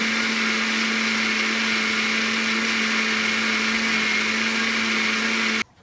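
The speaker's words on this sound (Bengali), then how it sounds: "আবারও ব্ল্যান্ডারে তেল দিয়ে দিচ্ছি আবারও কিছুক্ষণ ব্ল্যান্ড করে নেব" An electric blender whirs steadily at high speed while blending oil for homemade mayonnaise, a loud constant motor hum and whine that cuts off abruptly near the end.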